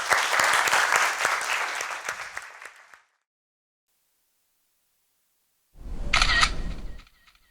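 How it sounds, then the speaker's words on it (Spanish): Audience applause after a talk at an art, science and technology workshop, dense clapping for about three seconds that fades out, then silence and a short burst of camera-shutter-like clicks. "Muchas gracias. Un aplauso."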